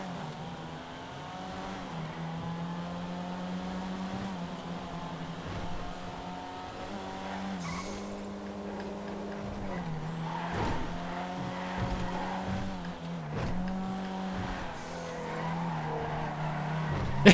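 A racing car engine in a GTA FiveM racing game drones steadily while tires scrub and squeal in understeer, pitch dipping and recovering several times through corners.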